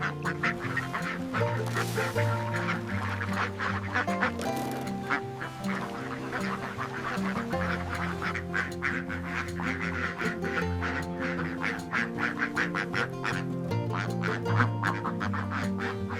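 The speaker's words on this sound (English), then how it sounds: "we monitor the health of our Indian runner ducks closely" Indian Runner ducks quack continuously in a busy, overlapping chorus on a duck farm, nearby and fairly loud, with no voices.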